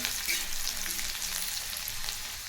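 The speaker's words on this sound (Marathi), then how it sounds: "तेलामध्ये ह्याला दोन ते तीन मिनिट असं तेलात फ्राय करून घ्यायचं आहे कांदा आणि लसूणला गोल्डन ब्राऊन होईपर्यंत" Onion and garlic fry in hot oil for a spicy village-style radish curry, giving a steady, close, dense sizzle that holds evenly throughout with no talking.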